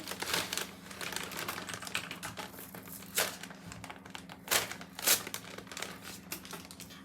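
Crinkly plastic and paper wrapping from a Burger Singh burger package being opened up close, with irregular crackles, tears and taps and a few sharper rustling bursts, no talking.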